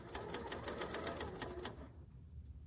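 Serger sewing machine stitching fabric during a quilting session, a quiet rapid mechanical chatter of evenly spaced stitches that runs for under two seconds and then stops, with no talk.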